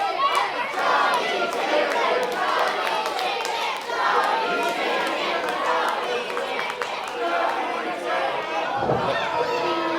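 Packed crowd at a sold-out wrestling show in Courtenay, British Columbia, shouting and chanting loudly and continuously, a dense roar of many voices with cheers rising throughout.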